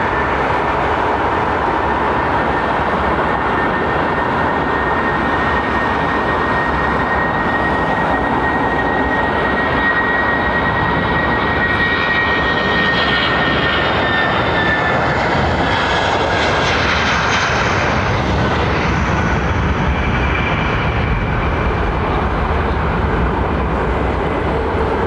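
Virgin airliner jet engines at London Heathrow Airport roar in a loud, continuous, broadband wash with a rising whine partway through, steady and close throughout with no talking.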